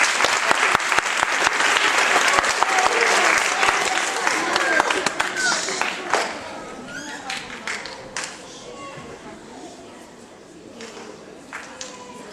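An audience applauds at a school Christmas concert, loud dense clapping that gradually thins and fades to scattered claps.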